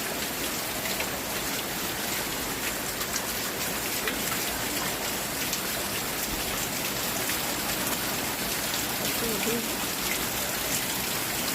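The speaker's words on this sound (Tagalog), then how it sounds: "Hinto na sana tong ulan para hindi na masyadong tumaas tong baha." Heavy rain pours steadily during Typhoon Emong amid Metro Manila flooding, a dense, continuous hiss of drops on surfaces with no letup.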